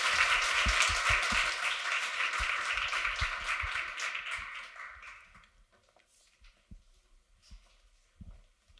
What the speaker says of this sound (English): can we give a round of applause for this amazing panel?